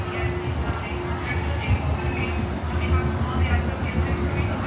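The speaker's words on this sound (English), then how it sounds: "Welcome aboard the Disneyland Monorail." The Disneyland Monorail rumbles along its elevated track, a steady low drone with a faint high whine heard from inside the car, under possible announcement speech.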